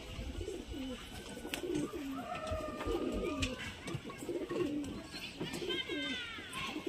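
Pigeons coo close by in repeated, rolling low calls that overlap steadily, with faint chirps and background noise beneath.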